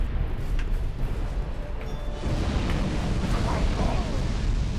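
Old Iron King boss in Dark Souls II unleashing its laser blast attack: a loud, sustained roaring burst of broadband noise that swells heavier partway through and keeps rumbling to the end.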